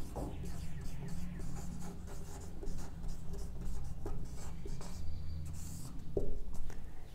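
Chalk or pen writing on a board during a biology lesson, a steady run of close scratchy strokes and taps with soft background noise and no clear talk.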